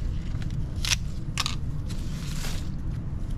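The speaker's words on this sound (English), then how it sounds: "I'm going to cut off the tops so that I can store the bulbs over the winter" Pruning shears cut through the thick stems of elephant ear plants to remove the tops before the bulbs are stored for winter, giving a few short, close crunchy snips over a steady low background.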